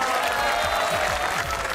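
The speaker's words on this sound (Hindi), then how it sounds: "तालियां।" Studio audience applause and light cheering on a Pakistani comedy talk show, a dense, steady wash of clapping filling the room with a few louder claps up close.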